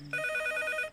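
A telephone, a landline in a house, rings in a movie scene: a bright electronic ring with steady tones starts after a short low hum and continues loud and unbroken to the end.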